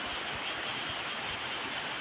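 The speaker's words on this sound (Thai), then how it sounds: "อ้าวฝนตกมา วันนี้ เกือบทั้งวันนะครับ" Steady rain falls through an afternoon at a rural home beside rice fields, a dense, even hiss that holds without pause and without voices.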